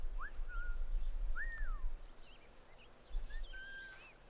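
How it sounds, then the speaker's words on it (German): Several short rising and falling whistles, the kind used to lure a guard in Assassin's Creed 4: Black Flag, sounding faintly over a low background rumble. "Hier, ich pfeife."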